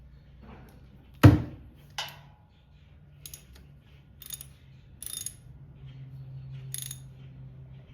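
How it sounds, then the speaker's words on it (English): A 10 millimeter ratchet works on the oil drain bolt of a John Deere Z930M mower, giving one sharp knock followed by short bursts of quick clicking, close and fairly quiet. "we're gonna use our 10 millimeter on there"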